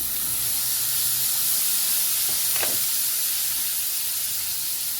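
A spoonful of lemon juice hits fish frying in hot oil, giving a loud, steady sizzling hiss that fills the whole stretch without a break.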